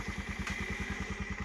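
A motorbike engine starts and settles into a steady, close, rhythmic idle putter, heard outdoors during ongoing rain.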